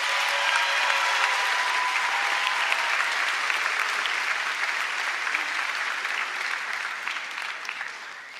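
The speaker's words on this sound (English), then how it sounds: "Class of 2024, please give Mr. Gertzen a big round of applause" Sustained applause from a high school graduation crowd for an administrator, a dense, steady wash of clapping filling the whole stretch and tapering slightly at the end.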